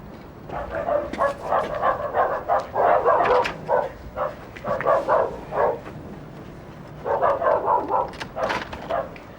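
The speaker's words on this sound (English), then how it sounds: "there's always the worry of fierce dogs" A dog barking during door-to-door election canvassing in Islington, London, in 1999: loud, close barks in quick bursts that repeat with brief pauses, and no talking.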